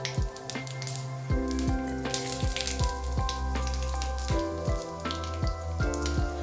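Whole cumin, bay leaf and dried chilli sizzle in hot oil for a Bengali vegetarian banana-flower dish, a steady crackling fry with a low musical tone sliding repeatedly underneath, close and continuous.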